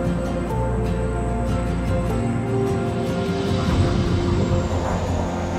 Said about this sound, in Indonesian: Pesawat perlahan menurunkan ketinggian, lalu berputar sekali di atas kampung